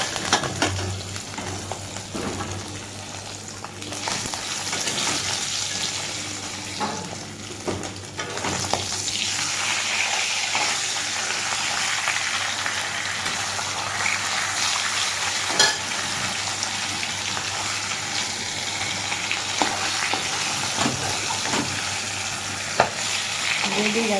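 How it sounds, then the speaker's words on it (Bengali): Katla fish pieces fry in hot oil in a pan, a continuous sizzle and crackle heard close up for a long stretch, with occasional scraping and stirring sounds. "এই তেলের মধ্যে, এই যে দেখতে পাচ্ছ মাছ ভাজা তেল"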